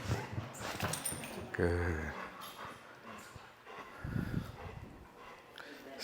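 A service dog in training at a drop-in obedience class gives a brief high whine, with a trainer speaking in the room around it.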